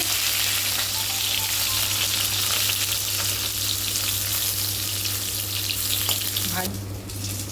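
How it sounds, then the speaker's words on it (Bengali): Eggplant frying in hot oil for Bengali shukto, a loud, dense, continuous sizzle close by that cuts off abruptly near the end. "বেগুনটা একটু লাল লাল করে ভেজে নেব।"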